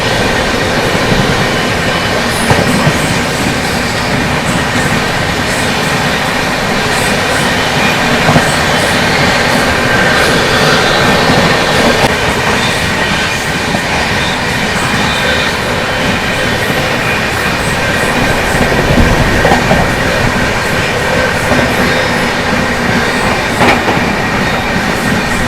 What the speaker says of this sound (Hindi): भाई साहब क्या जबरदस्त रेस लग रही है दोनों ट्रेनों के बीच में।